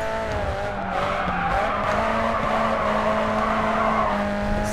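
Tires squeal steadily as a car drifts through a corner in the racing game Grid 2, a sustained loud skid over roaring engine noise.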